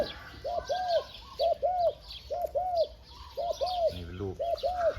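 A home-bred young dove calls during training, giving repeated clear rising-falling coos in short pairs close by, with a brief burst of wing flutter near the end.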